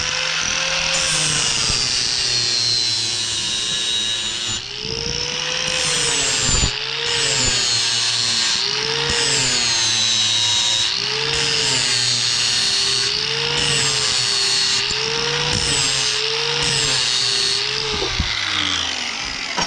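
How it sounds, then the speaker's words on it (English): A grinder grinds a forged railroad spike into a knife blade, a loud continuous metallic whine that rises and falls in repeated passes for about twenty seconds, with no talking. "all I'm gonna do is grind down the back and start, and then flip it over straight up and down and start shaping in roughly how I want the tip to be"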